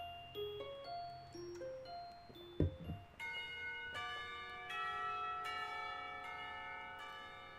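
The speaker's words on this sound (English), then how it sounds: "The bell rings and the teacher at the front of the room gestures that classes are over for the day." A school bell in the visual novel Katawa Shoujo marks the end of class with sustained, ringing chime tones that swell after a brief thump and hold steady. The tones rise over a soft, melodic backdrop, with no voices.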